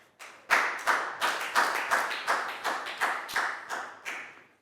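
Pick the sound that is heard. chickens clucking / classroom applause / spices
classroom applause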